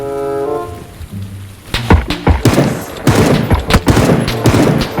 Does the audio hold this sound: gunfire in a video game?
yes